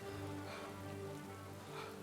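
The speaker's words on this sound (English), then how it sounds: "the rain will dampen the noise, make it so it's harder to hear our approach" Steady rain falling in the medieval video game Kingdom Come 2, a constant even hiss of rainfall with a low tonal hum beneath, no voices.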